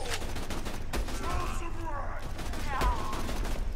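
Rapid bursts of gunfire from the Borderlands video game crackle continuously, with sharp individual shots standing out among layered game effects and music.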